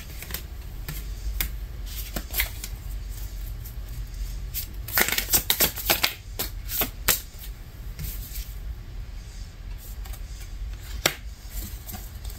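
Tarot cards being shuffled by hand, soft riffles and taps scattered through the clip with a denser flurry of card slaps in the middle, close and without speech.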